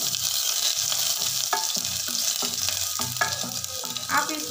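Chopped ginger and garlic fry in hot oil for achari dal, a steady loud sizzle with repeated scraping stirs of a spoon across the pan.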